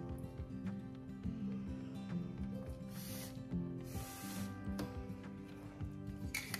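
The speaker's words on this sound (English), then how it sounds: "pop a little bit more of my gloss spray there" Two short hissing bursts of aerosol spray, faint and close, over a quiet background with low hum and small handling noises.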